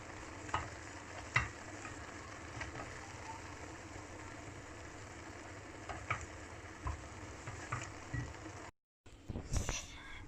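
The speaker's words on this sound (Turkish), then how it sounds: "Evet kaynamaya başlamış. Kaynamaya başladığı an altını en kısa getiriyoruz. Şöyle çok hafif karıştırıyoruz." Fresh green beans simmer in a pot on low heat while a spoon gently stirs them, giving a steady soft bubbling hiss with occasional light scraping taps and a brief pause near the end.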